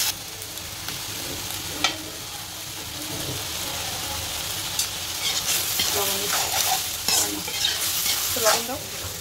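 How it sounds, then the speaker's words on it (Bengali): Oyster mushrooms fry in a pan, hissing steadily while a utensil stirs and scrapes through them in repeated strokes that grow busier toward the end, heard up close without speech. "এ হচ্ছে আমাদের মাশরুম রান্না, ওয়েস্টার মাশরুম রান্না।"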